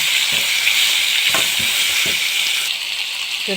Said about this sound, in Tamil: பிறகு இந்த பூசணிக்காய் போட்டுக்கோங்க. நல்லா வதக்குங்க.